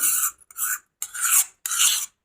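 A thick hair dye paste mixed with leaves is stirred in a bowl, giving repeated scraping, rasping strokes in short bursts with brief pauses between them. The strokes are close and there is no talking.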